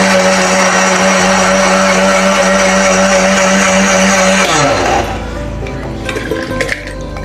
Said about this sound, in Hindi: और ये हमारे पास लहसुन अदरक और हरी मिर्चें हैं, ये भी हम ग्राइंड करने लगे हैं।